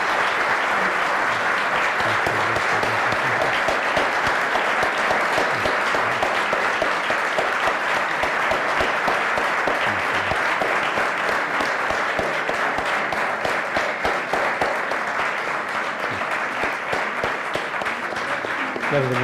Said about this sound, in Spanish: Le despedimos con un fuerte aplauso.